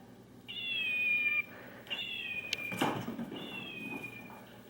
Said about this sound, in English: Can you make him meow?